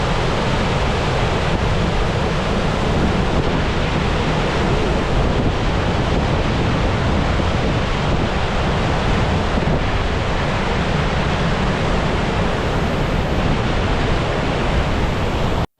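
Gullfoss waterfall in Iceland roars as a loud, unbroken wall of rushing water, dense and steady throughout with buffeting wind noise and no voices.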